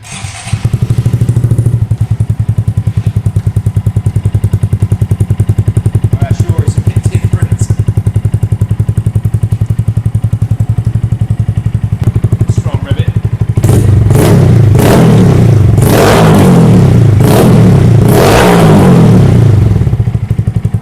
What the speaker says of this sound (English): I'm going to fire it up now and see what sort of gain we've got.